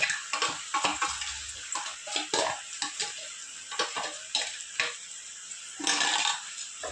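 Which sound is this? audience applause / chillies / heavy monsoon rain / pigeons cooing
chillies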